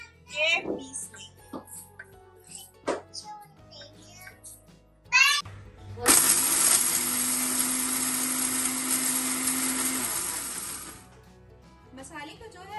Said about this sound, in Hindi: अब हम इन सब मसालों को जो है एक ग्राइंडर में डाल के पीस लेंगे।